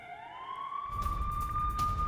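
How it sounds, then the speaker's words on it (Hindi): An air-raid siren in Tel Aviv during a missile attack wails with a rising tone that holds steady and loud, backed by low rumbling noise. "तेल अवीव में लगातार सायरन बज रहे हैं।"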